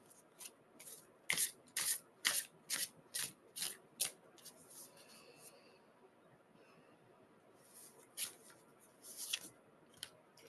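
Oracle cards being shuffled by hand, a series of crisp riffling bursts close up and fairly quiet, clustered at the start and again near the end.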